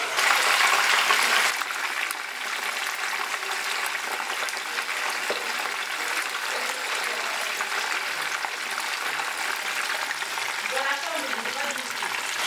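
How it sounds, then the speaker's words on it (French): Fish frying in hot oil for a Congolese grilled Thompson dish, a steady broadband sizzle that is loudest in the first second and then holds evenly close by, with faint voices in the background. "Maintenant, je mets le poisson dans l'huile chaude."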